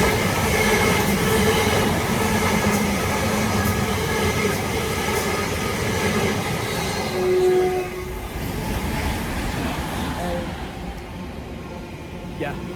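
A Great Western Railway battery train rumbles past close by, a steady rolling roar of wheels and carriages that fades toward the end, with a person talking over it.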